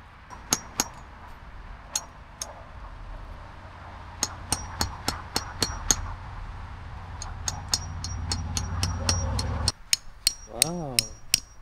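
Sharp metallic hammer strikes ring out at a campsite in irregular bursts, some in quick runs, over steady wind noise, with a brief voice near the end.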